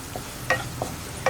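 Spice powders being stirred in a pan over a low flame for chana masala, giving a few soft, separate scraping strokes about half a second apart, close and fairly quiet with no talk.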